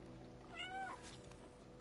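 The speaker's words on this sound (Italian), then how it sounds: "Devo miagolare forse quando lui lo lancia" Cat meowing in the PS5 video game Stray: one drawn-out, bending meow rising then falling over a steady game music and ambient background, fairly close and clear.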